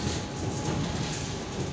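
An electric suburban train runs steadily with a continuous rumble and rattling wheel noise, heard from inside a carriage.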